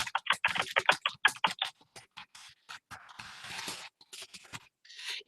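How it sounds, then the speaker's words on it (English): Rapid keystrokes on a computer keyboard as a name is typed, a quick burst of clicks that slows to scattered taps, close and clear with no talking. "then just type in my name"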